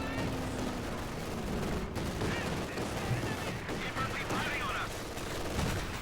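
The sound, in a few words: MG42 machine gun fire in a video game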